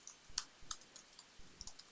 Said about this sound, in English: And then I'm going to start typing this in.